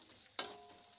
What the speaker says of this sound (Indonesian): Goreng kembali hingga semua bahannya itu matang dan kering.